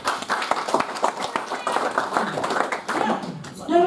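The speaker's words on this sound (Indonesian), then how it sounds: "Yang setuju berikan tepuk tangan yuk." A church congregation claps hands during an online worship service, scattered uneven claps at moderate volume blended with a preacher's voice talking over them.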